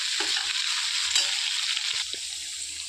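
Ingredients sauté in a pan with a bright, steady sizzle that fades a little toward the end, broken by a few faint knocks of stirring.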